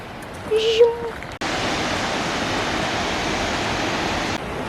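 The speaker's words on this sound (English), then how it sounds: "This is another waterfall." A waterfall on New Zealand's West Coast gives a loud, steady rushing roar that fills the scene, preceded by a brief high whistle-like call and quieter ambience before the water noise cuts in.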